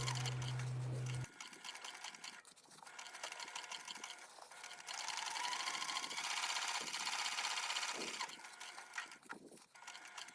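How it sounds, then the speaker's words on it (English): Sewing machine stitching a 3/8-inch seam joining a lining panel to a gusset on a crossbody bag, a steady close whirring hum in runs with short pauses, fairly quiet. "Sew the seam again, this time using a 3/8 inch seam allowance."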